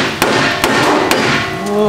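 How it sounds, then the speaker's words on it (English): Hammer blows on a part of an LSA-supercharged Chevrolet Colorado truck: three loud, sharp metallic strikes spaced about half a second apart, each with a brief ringing tail. "I think we're just gonna hammer it down"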